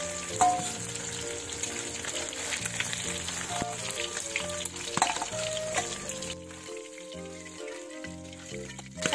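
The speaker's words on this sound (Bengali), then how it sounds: "কাঁটাটা ভালো করে ভাজবো। দেখো একটা কাঁটাই কত মোটা, কত বড়।" Thick bones of a large black carp frying in oil produce a continuous close sizzle and bubbling under faint background tones, thinning out near the end.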